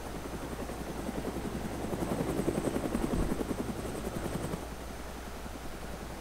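Video game helicopter in flight, steady rhythmic rotor chop with a low engine drone, swelling louder in the middle as it passes close, then easing back to a constant hum.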